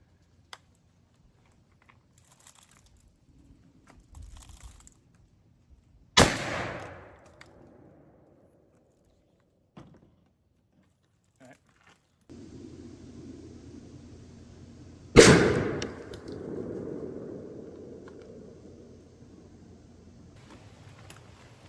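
Shotgun firing Winchester Super X Xpert 3 inch #2 shells while patterning for duck season, two loud separate blasts several seconds apart, each with a short echoing decay, amid quiet outdoor background with small handling clicks and faint noise.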